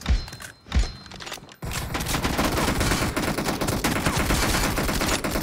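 A team deathmatch shooter game delivers sustained rapid gunfire, a dense, loud burst of automatic shots that runs steadily after a few isolated thumps and a brief pause at the start.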